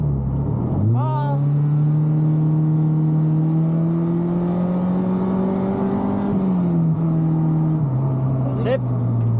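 Honda Ferio fitted with a K24 engine revving hard at full throttle, close and loud, the pitch climbing sharply then holding high before easing off; people talk over it.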